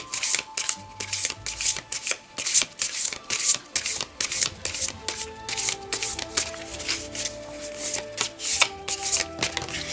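Tarot cards are shuffled by hand in quick, regular riffling bursts, each crisp and close, repeating steadily with no voice.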